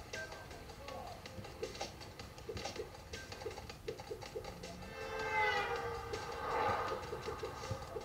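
A train approaching in a video game played on a Raspberry Pi 400: a rumbling, rising rail sound with a whistle-like tone swelling in the second half, over busy game sounds and effects.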